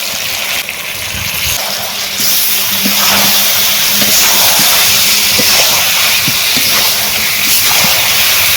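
Burnt potatoes go into a hot pan with chili and turmeric powder for a chicken curry, raising a loud, steady hiss and sizzle that runs unbroken throughout with no talking.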